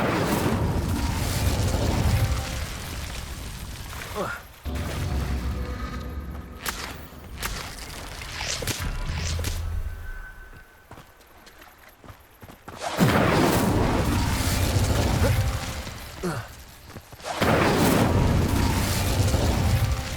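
Hogwarts Legacy's Incendio fire spell: loud bursts of whooshing, crackling blasts that come in heavy waves, drop to a quieter stretch, then return strongly, with no talk.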